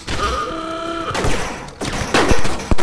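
Rapid bursts of shotgun fire in the video game Rec Room, a few sharp blasts clustered together close up over a brief stretch, with a short tonal sound before them.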